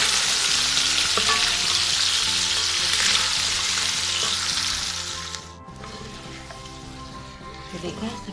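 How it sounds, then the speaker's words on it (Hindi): Chicken frying with garlic, ginger paste and onion, a loud dense sizzle close by that eases off partway through, with occasional stirring clinks and faint voices underneath. "चिकन को लहसुन अदरक और प्याज के साथ अच्छे से ब्राउन करना है।"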